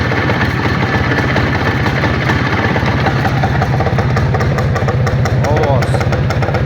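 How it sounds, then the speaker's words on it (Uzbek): A motorcycle engine idles steadily right after being kick-started, a close, even, throbbing putter that holds constant throughout while someone talks nearby. "Mana ot tepib yurg'izib beraman, eshitib ko'rasiz aka"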